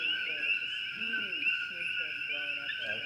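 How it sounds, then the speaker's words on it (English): Coqui frogs calling at night in Hawaii, a dense, continuous chorus of high chirping notes from many frogs, with a person talking softly over it. "this is actually just to record the sounds of the koki frogs"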